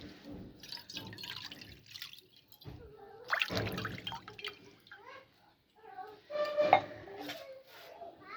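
Water splashing and dripping over hands during handwashing in a rural home, in irregular wet bursts with a faint clink of dishes, while a person talks over it.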